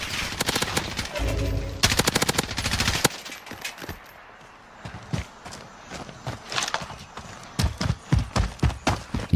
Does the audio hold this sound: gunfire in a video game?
yes